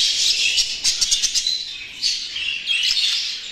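Show budgerigars in a breeding cage chirp and warble in a dense, busy stream of bright, rapid twitters and short squawks, close and fairly loud, with no talking.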